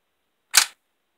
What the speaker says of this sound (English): I will send you off with a nice bolt closing.